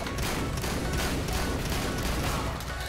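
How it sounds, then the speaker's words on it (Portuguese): Rapid, dense gunfire in Counter-Strike: Global Offensive, shotgun blasts mixed with other weapons into a continuous loud barrage with no pauses. "75 tiros de shotgun"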